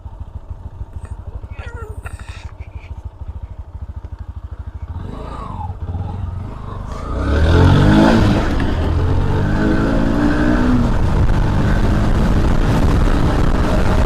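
Motorcycles at the start of an NS versus Shine drag race idle with a pulsing rumble, then rev hard and roar away in a loud, sustained acceleration, close up, with voices faintly underneath.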